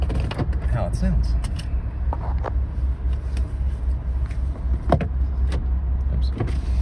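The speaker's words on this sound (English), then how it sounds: "Always put your window down." A Chevrolet Sierra truck's power window motor whirs as the glass goes down, a steady electric hum over low engine rumble, with some clicks and faint sounds around it.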